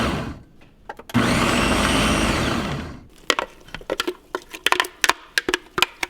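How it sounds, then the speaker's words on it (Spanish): A blender roughly pulses seasoning ingredients for a grilled turkey recipe, starting with a steady loud whir for about two seconds, then a run of sharp, uneven knocks and rattles as contents shift. No talking. "vamos a licuar esto rústico"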